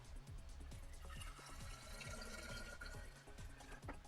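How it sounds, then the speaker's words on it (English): Hot water running into a flask, a quiet, continuous gurgling fill with bubbling and small splashes, heard close and low in level. "We're going to fill this flask with some hot water."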